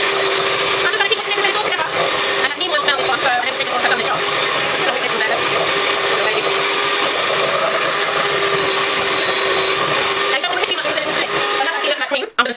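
An electric mixer whipping shea butter in a bowl under cling film, a loud, steady, high-pitched motor whine running nearly unbroken before cutting off at the end.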